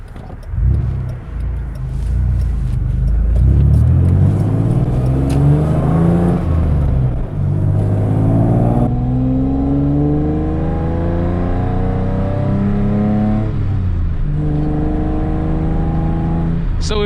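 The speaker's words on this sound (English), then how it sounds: "I do have an aftermarket exhaust and an intake on this. The rear windows are open too, so there's a little bit more exhaust noise coming through." A 1997 Toyota Tacoma five-speed with aftermarket exhaust and intake accelerating hard from inside the cab with rear windows open, engine note rising through gears with shift breaks, loud and droning throughout.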